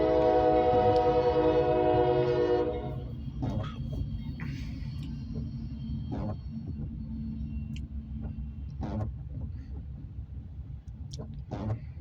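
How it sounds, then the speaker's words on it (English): A CSX freight train on track 2 sounds a loud multi-tone horn, then rolls past with a steady low rumble of wagons and intermittent clanks and squeals. "We got a CSX train on track 2."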